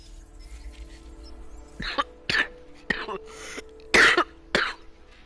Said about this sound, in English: I've been having a bit of cough recently.